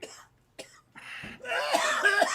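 A few sharp coughs from one person nearby, turning into a longer rough, raspy coughing fit.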